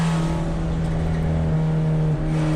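VW Jetta GLI Super Touring Car at Thunder Hill Raceway, its engine droning loud and steady while the driver works through the gears on track, running at low boost of about 6 to 9 pounds.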